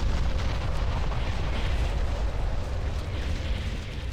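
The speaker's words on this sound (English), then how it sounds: "Enemy structure destroyed." An enemy structure blows up in the strategy game Ground Control, a dense, continuous roar of explosion rumble and debris that stays loud and heavy throughout with no distinct pauses.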